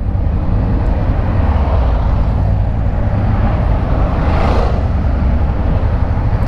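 A Honda CB500X motorcycle rides through heavy city traffic in Jaboatão dos Guararapes, with a loud, unbroken roar of engine and wind noise that holds steady throughout and no talking.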